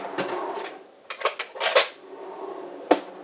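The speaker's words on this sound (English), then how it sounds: "get a knife and we spread the peanut butter" A metal knife scraping and tapping as peanut butter is spread onto a toasted English muffin, a few close, crisp scrapes and a sharp clink near the end, no talking.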